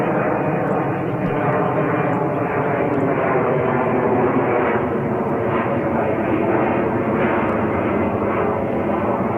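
An Embraer E190 jet at JFK airport gives a loud, sustained engine roar that stays steady and close throughout, with no talk over it.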